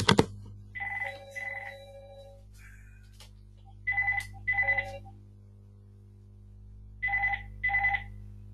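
A telephone rings in an office setting, trilling bursts in pairs with silent gaps between, fairly clear over a low steady hum; a faint voice is heard at the start.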